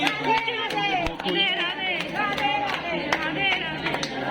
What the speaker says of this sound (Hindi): ताली बजाना और मेरे साथ दौड़ के आ जाओ